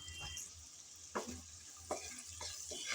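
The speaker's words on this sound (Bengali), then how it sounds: "প্রথমে আমি পেঁয়াজ কুচি হালকা ব্রাউন কালার করে ভেজে নেব।" Chopped onion fries in oil left over from frying potatoes and eggs, giving a soft continuous sizzle. A few sharp scrapes of stirring break in at intervals over a low background rumble.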